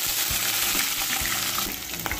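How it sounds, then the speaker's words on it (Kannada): Green chillies fry in hot oil for potato sagu, a close, crackling sizzle with a few soft knocks and stirring taps in the pan, and no talking. "ಹಸಿ ಮೆಣಸಿನಕಾಯಿ ಕೂಡ ಹಾಕೋಣ ಇದಕ್ಕೀಗ"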